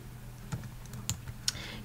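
Keys are tapped on a computer keyboard, a handful of light, irregular clicks close by and fairly quiet, with no talking.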